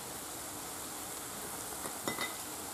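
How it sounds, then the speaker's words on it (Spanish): Paprika, garlic and saffron are stirred in a cooking pan, giving a faint, steady sizzle with a couple of soft utensil scrapes near the end, no voices. "Y se remueve bien."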